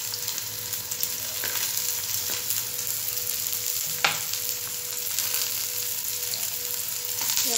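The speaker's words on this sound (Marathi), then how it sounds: "कांदा घालणार आहोत फोडणीला" Chopped onion, ginger and green chillies frying in hot oil for a tempering, a steady soft sizzle with a few light stirring clicks and scrapes.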